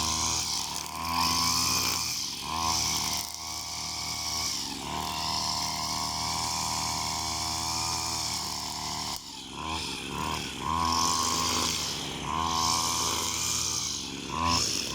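Petrol grass trimmer fitted with a bump-feed line head, its two-stroke engine buzzing loudly and steadily, revving up and easing off in waves, close up with no talking.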